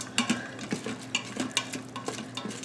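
A utensil scrapes rice off the sides of an Instant Pot inner pot with chicken stock in it, making a series of short, uneven scraping and stirring strokes, moderately close, with no talk.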